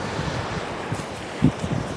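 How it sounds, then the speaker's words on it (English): Steady buffeting wind roars across the microphone outdoors, with low gusty thumps and a faint wash like surf behind it. "a windy day down here"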